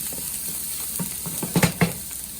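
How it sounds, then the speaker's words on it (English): Chopped garlic frying in hot oil, a soft steady sizzle with a few louder stirring scrapes near the end, close up. "So oil hot, add garlic, chopped garlic. And move slowly."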